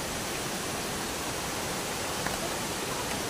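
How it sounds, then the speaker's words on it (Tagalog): Bantakay Falls in Sta. Catalina produces a dense, unbroken roar of falling water, loud and close, with no other sounds standing out. "Nandito na yung falls."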